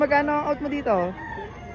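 A fighting rooster crows near and loud at a poultry market, a harsh drawn-out call, while someone talks in Tagalog over it.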